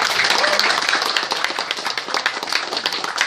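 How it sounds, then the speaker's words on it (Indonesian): An audience at a business presentation breaks into enthusiastic applause, dense overlapping clapping that stays loud and close, then thins slightly toward the end. "Berikan tepuk tangan dulu yang meriah."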